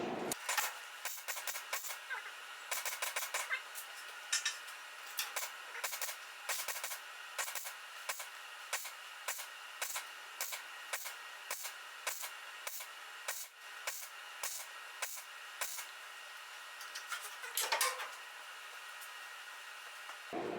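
MIG-style welding on a Mk1 Escort chassis rail, bridging a large gap, a steady crackling hiss broken by many short bursts and pauses, close and fairly loud with no talk.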